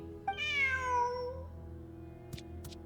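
A cat in the Genshin Impact video game gives one clear, drawn-out meow, sliding downward in pitch over a quiet game background hum, followed by two faint clicks.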